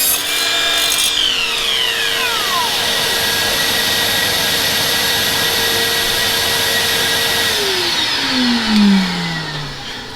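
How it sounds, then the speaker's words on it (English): A shop vacuum runs in a garage workshop alongside an Evolution R255SMS-DB-Li mitre saw, giving a loud, steady roar with whining tones that slide downward as a motor winds down near the end. "Let's fire up the vac."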